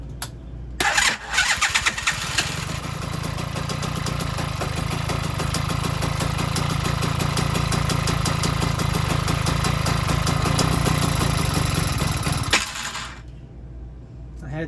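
A small engine fitted to a bike is test fired: it cranks, catches and runs at a steady loud idle for about ten seconds, then cuts off abruptly, with a faint rattle heard before and after.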